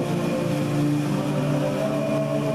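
Ship or submarine engines run at full power astern, a steady droning mechanical hum with layered tonal harmonics that stays even and loud throughout, with no talk over it.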